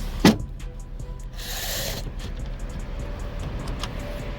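A BMW X5 E70 xDrive35d from 2012 has its tailgate shut, giving one sharp nearby thump with a short motorised whir of the closing mechanism right after it, then a quiet background.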